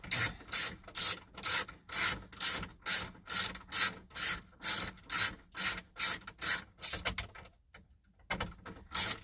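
A hand ratchet with a 7mm socket clicks in quick, regular bursts, about a dozen strokes close up, then slows and stops.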